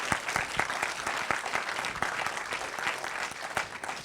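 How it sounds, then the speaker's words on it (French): An audience at a climate-transition café event applauds guest Jean Jouzel, a steady, lively round of clapping from a moderate crowd, close and continuous throughout. "peut-être vous pouvez l'applaudir d'être présent avec nous"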